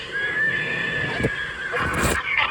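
A recorded horse neigh from the soundtrack of a 2008 Gemmy 15 ft inflatable carriage, a single drawn-out whinny played through a small speaker, fairly close with a faint background hiss.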